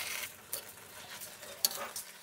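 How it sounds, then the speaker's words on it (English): Half-cooked sorrel leaves stirred in an aluminium pan, giving soft, faint scraping and wet rustling strokes with a couple of small sharper knocks against the metal, close by and unaccompanied by talk. "After 5 minutes, mix it well, friends"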